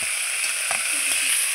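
Pointed gourd dropping into hot oil with malabar spinach in a mixed-vegetable pan, giving a steady close sizzle with a few soft stirring knocks.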